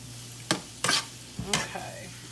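Ingredients for a one-pot meal are stirred together in a pot over a light sizzle, with three or four distinct scraping strokes of a spoon against the pot, close and clear.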